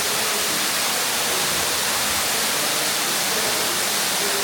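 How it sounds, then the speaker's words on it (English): The waterfall at Smoo Cave roars in a dense, constant hiss-like wash of falling water, loud and unbroken from start to finish. "Pretty cool waterfall."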